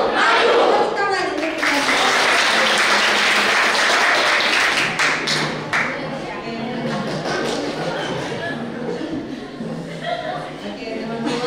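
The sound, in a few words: audience applause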